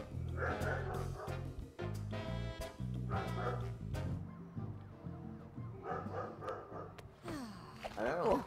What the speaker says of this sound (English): I don't know what Cody's barking at.